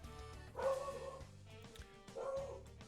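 A dog barks in the background of a room, two separate bow-wow bursts a couple of seconds apart, moderately faint and set against quiet indoor sound.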